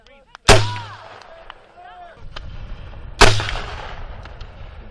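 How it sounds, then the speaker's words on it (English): Two heavy blasts from a military gun firing on a range, each a sharp, loud report followed by a long rumbling decay, spaced a few seconds apart, with faint voices between them. "blast area clear! Engage. Good shot, Nikita."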